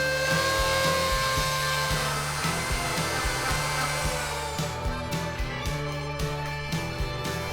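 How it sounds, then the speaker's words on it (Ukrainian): Handheld rotary tool filing and smoothing the edges of a part for a homemade speargun, a loud steady whine that breaks into short repeated pulses toward the end as the bit touches the work. "переходимо до обробки бормашинкою, акуратно підпилюємо краї"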